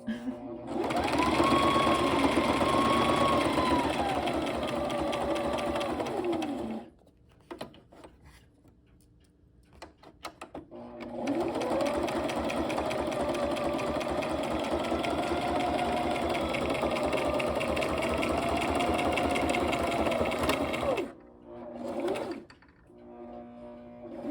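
Sewing machine stitching through a shaker card: a loud, close, rapid mechanical whir that runs steadily for several seconds, stops for a short gap, then resumes for a second long run before cutting off.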